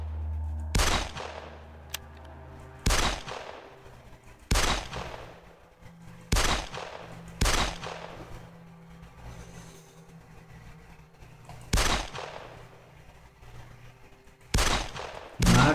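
Gunfire in the video game 13 Days in Hell comes in about eight sharp, loud bursts spaced a second or two apart, with a low background hum between them.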